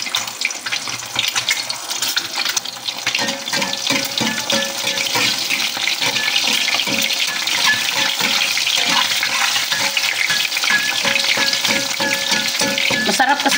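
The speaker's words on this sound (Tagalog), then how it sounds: "Prito tayo ng itlog pamare sa ating dilis. Iinit na yung ating mantika." An egg fries in hot cooking oil for a Filipino breakfast with dried anchovies, seasoned with salt and pepper. A steady, close, loud sizzle and crackle runs throughout with no talking.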